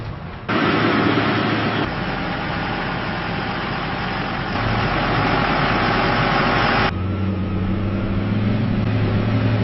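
An AMPV armored military vehicle's engine runs with a loud, steady low rumble and drone that shifts pitch and intensity partway through, continuous throughout with no speech.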